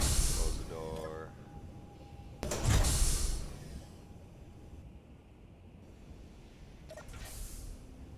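A large airtight door in Space Engineers closes with a mechanical hiss and heavy thud midway, followed by a fading hum and a second sharper clunk near the end.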